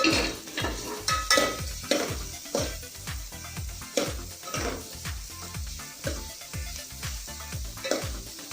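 Cauliflower, carrot and beetroot being stir-fried in a pan, with a steady run of spatula scrapes and clatters against the metal every half second or so over a soft sizzle, close and fairly loud, with no talking.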